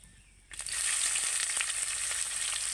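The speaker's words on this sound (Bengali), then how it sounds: "এবার আমি দিয়ে দেব কুচিয়ে রাখা পেঁয়াজ।" Chopped onions dropped into hot oil with bay leaf, cracked cardamom and cinnamon, bursting into a loud, steady sizzle after a brief quiet start and holding that close hiss with faint crackles.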